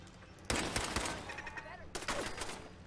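Gunfire in Fallout 4 comes in two loud bursts of rapid shots about a second and a half apart, with brief echoing tails between them.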